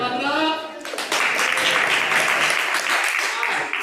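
A group of instructor trainees claps together after an exercise, a dense burst of applause rising after a brief voice at the start and holding steady, close and loud, for several seconds.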